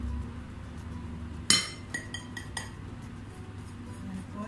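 Knorr bouillon cubes being smashed with a utensil in a bowl while mixing a nugget bake seasoning, one sharp clinking knock followed by a few lighter taps, close and fairly quiet.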